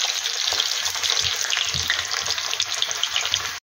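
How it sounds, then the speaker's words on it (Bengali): Potato pieces frying in oil left from browning onions, for homemade chicken biryani: a steady, dense sizzle close by, continuous throughout with faint stirring underneath, cutting off right at the end. "আলুটা এবার আমি একটু ভেজে নেব হালকা করে"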